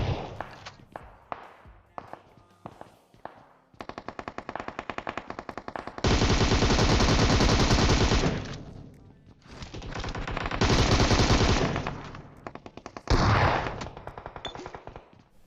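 Loud bursts of automatic gunfire in the PUBG battle royale game: rapid single shots at first, then several long sustained volleys close by, with brief pauses between them.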